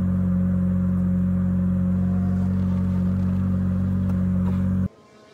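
An F1 car engine in F1 Manager 2022 holds a loud, steady, buzzing high-rpm drone for several seconds, then cuts off abruptly.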